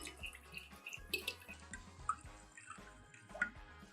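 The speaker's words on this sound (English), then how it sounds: "Last, add 50 milliliters of water." Fifty milliliters of water poured into a small bowl of ketchup and sugar, heard as soft close trickles and drips with a few light clinks, alone and quiet.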